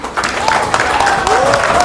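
Audience applause greets actor Ashutosh Rana as he arrives on stage at a News18 India Chaupal event, dense and steady clapping through the whole moment with voices rising over it.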